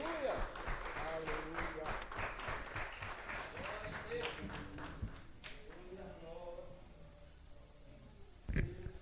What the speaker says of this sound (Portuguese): E as palmas louvam o nome do Senhor Jesus.